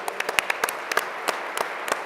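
Scattered applause from a summit audience for the production team, a dozen or so sharp, separate claps spread unevenly over two seconds, close and clear with no talking.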